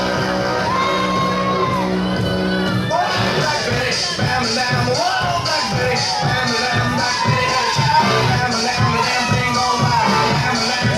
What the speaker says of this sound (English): There was a chorus of boos.